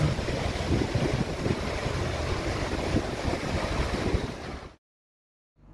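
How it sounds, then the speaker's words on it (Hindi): Water of the Lidder river rushing along a roadside in Pahalgam gives a steady, loud broadband wash that continues for several seconds and then cuts off abruptly. "आप भी इन्जॉय कीजिए लिडर रिवर के पानी की छल छलाती हुई आवाज़"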